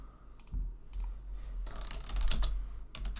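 Someone types on a computer keyboard while writing trading notes, a close, steady patter of key clicks over a low background hum with no talking.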